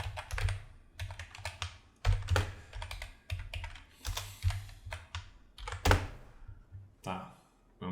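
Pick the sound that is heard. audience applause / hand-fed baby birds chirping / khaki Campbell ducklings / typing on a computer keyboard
typing on a computer keyboard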